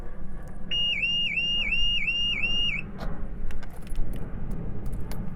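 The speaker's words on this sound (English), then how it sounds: "Still immobilised itself." Porsche 968, a 1993 model, with its alarm going off while the car is immobilised: a loud warbling electronic siren repeats rapidly for about two seconds, then stops, leaving engine rumble and road noise.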